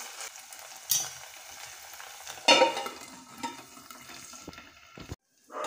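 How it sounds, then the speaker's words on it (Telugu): Ginger garlic paste and onions fry for a mushroom curry, a close, continuous sizzle with stirring and a few sharper scrapes of the utensil against the pan, ending in a sudden brief silence. "అల్లం వెల్లుల్లి పేస్ట్ వేసి ఇంకొంచెం వేయించుకోవాలండి."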